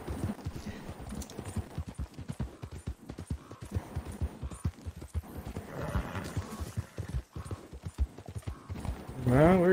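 Hooves of a horse suffering heat stroke clip-clop in a steady walking rhythm, close and distinct, with a brief whinny near the end and some talking mixed in.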